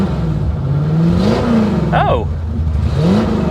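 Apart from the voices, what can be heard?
car engine revving with gentle throttle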